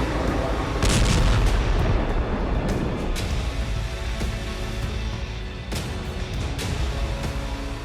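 Explosions from military strikes across the Pakistan–Iran border region, heavy rumbling booms and bursts running loud and continuous, with several sharper blasts standing out.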